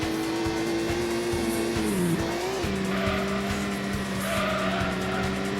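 A race car in the PS1 racing game Gran Turismo screams along with a steady, loud engine tone, then its tires squeal and skid as it slides into the outside wall, before the engine drones on. No one speaks.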